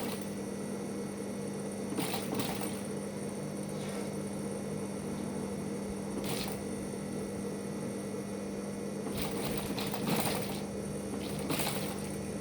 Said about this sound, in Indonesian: Nah seperti ini masih jahitan bantu ya teman-teman.